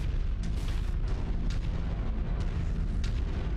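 Heavy gunfire in Mechwarrior 5: Mercenaries: a dense, continuous booming roar with sharper cracking shots breaking through at irregular intervals, loud and close throughout.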